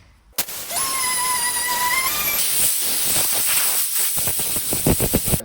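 An orbital sander scuffs the clear coat on a car paint panel during prep: a high motor whine starts, then turns into a steady loud hissing rasp that continues close up to the end.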